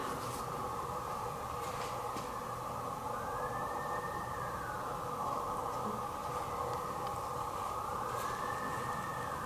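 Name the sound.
distant siren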